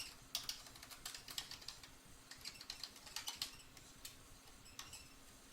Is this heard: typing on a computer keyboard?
yes